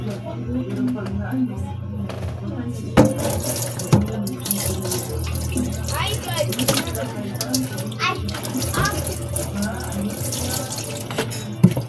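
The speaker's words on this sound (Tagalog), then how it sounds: "Ito na hugasan ang karne." Tap water runs steadily into a sink as raw meat is washed under it in a home kitchen, with a constant splashing hiss, occasional clunks, and people talking over it throughout.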